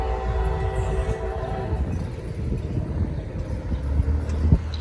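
A CSX freight train passing a road crossing on heavy 140-pound-per-yard rail, a loud continuous low rumble and rolling roar with a faint horn tone at the start and a sharp clank near the end.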